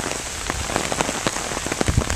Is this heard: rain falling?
yes